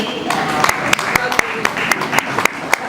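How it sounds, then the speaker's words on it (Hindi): Applause from a crowd with sharp, steady claps over a continuous wash of hand noise, loud and close, lasting a few seconds. "प्लीज उनका जोरदार तालियों से स्वागत कीजिए"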